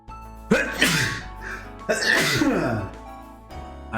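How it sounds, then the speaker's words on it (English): A person sneezes loudly twice in close succession, each burst sharp and breathy, followed by a quieter exhale near the end. "Achoo."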